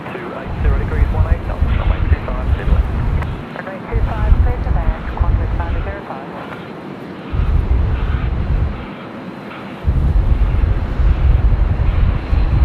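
An airliner departs runway 25 at Sydney Airport on a windy day, its loud, sustained roar broken by heavy wind buffeting on the microphone while people talk over it.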